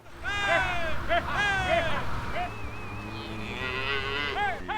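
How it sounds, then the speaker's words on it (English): Beef cattle on a working ranch give several loud, drawn-out moos close by, one call following another with brief gaps, over a low background murmur. "I raise cattle."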